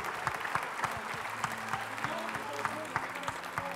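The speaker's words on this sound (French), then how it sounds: "vous pouvez aussi vous applaudir" An audience applauds at an award ceremony in a hotel trade show setting, with steady, fairly close clapping and individual claps standing out over the crowd.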